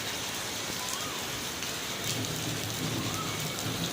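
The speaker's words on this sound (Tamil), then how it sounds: "ஓகே மழை பெஞ்சுன்னு தான் இருக்குது" Heavy rain pours steadily outdoors in Malaysia, a dense, continuous hiss of drops hitting surfaces with no pause, heard close and fairly quiet, with a low rumble underneath and no one speaking.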